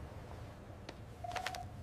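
A telephone being dialled during a Hindi story: a short burst of keypad tones in quick succession over a quiet background hum, with no talking.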